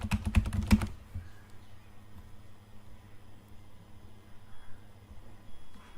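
Fast keyboard typing on a computer during a WordPress plugin search, a quick burst of clicking keystrokes in the first second, then only faint room noise.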